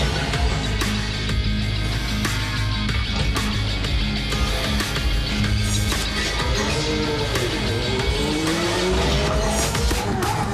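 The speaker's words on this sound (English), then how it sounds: "But we still drive cars." Formula One race cars from the 2008–2009 era roar loudly and continuously, engines screaming with rising and falling pitch as they pass, plus bursts of tire squeal and skidding.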